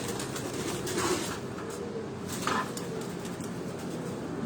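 A flock of Sailgodi pigeons coos continuously on a Rawat rooftop loft, a low rolling murmur with a couple of slightly louder swells, close and unbroken by talk.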